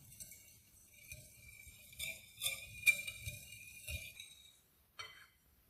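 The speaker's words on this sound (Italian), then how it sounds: "e lavoriamo con una frusta." A whisk works milk and yeast together in a bowl, making quiet repeated metallic clinks and scrapes in an irregular rhythm that fade out near the end, with no voices.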